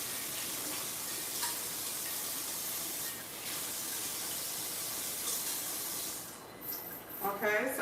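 Peas being washed in a pot under a running tap give a steady spraying, hissing rush of water with faint sloshing near the end, close and fairly loud, with no talking.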